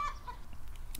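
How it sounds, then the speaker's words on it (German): A farm chicken in the video game Deiland gives a short cluck, close and brief, over soft background game ambience. "Da ist ein Huhn groß genug geworden."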